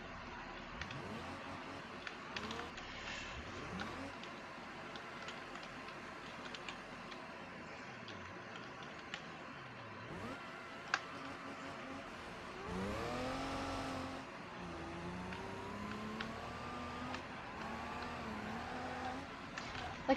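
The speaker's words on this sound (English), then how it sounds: "Sounds like Jake Schneider's supercharger on a C706." A supercharger whines in a racing video game while the car drifts. The engine tone rises and falls in long sweeps under steady road noise, with no speech.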